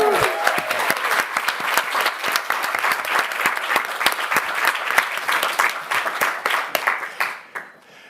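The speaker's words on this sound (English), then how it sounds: "While people are catching their breath and from all the applause" Enthusiastic applause fills the room at a Cannes film festival press conference, many hands clapping in a dense, sharp patter that continues steadily before tapering off at the end.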